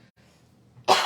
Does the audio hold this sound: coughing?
yes